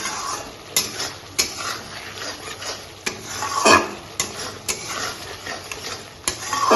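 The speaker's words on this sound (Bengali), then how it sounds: "এবার মশলাটা খুব ভালো করে কষিয়ে নিতে হবে" Masala stir-fried in a pan for a fish-head (boal) curry, a steady sizzle broken by repeated sharp clinks and scrapes of a spoon against the metal, close and fairly loud with no voices.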